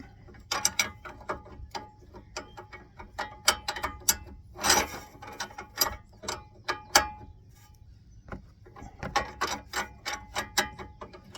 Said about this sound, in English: The wrench turns the bolt, or turns the nut.